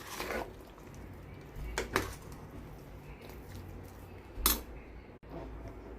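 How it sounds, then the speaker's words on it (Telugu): A spoon mixing salt into sambar rice in a pot, giving a few distinct clinks and scrapes against the metal over a quiet background, close and fairly soft. "సాల్ట్ వేసాక ఒకసారి కలుపుకుందాము"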